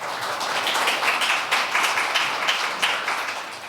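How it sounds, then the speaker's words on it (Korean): An audience in a hall welcomes a company presenter onto the stage of a corporate pitch event with steady, dense applause that lasts several seconds. "큰 박수로 맞이해 주시기 바랍니다"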